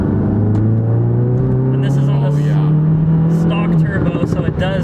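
A turbocharged 350 hp GTI engine revs hard at full throttle, pitch climbing steadily before a gear change, loud and close.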